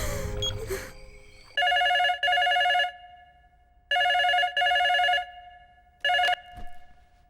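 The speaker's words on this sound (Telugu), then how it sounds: "ఫోన్ చెయ్యి." A telephone ringing on an outgoing call in a Telugu film scene: loud, close double rings repeat in a steady pattern of paired bursts with silent gaps between them, and nobody talks.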